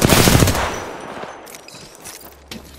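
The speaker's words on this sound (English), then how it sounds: "Being shot at." Video game gunfire crackles as the player takes fire, with a loud burst of rapid automatic shots up front, then scattered fainter shots and impacts trailing off.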